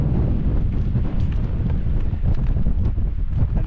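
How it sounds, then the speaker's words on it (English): Strong wind roars steadily across the microphone on an open Dales hilltop at a wild camp, a dense, continuous buffeting rumble with no other sounds. "that wind is pretty strong"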